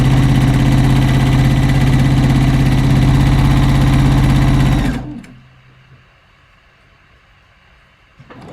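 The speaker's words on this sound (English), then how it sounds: "This is like such a super easy way to sew sleeves." Sewing machine stitching sleeves onto a robe jacket, running loud and steady for about five seconds before stopping abruptly, followed by near silence and a faint clunk.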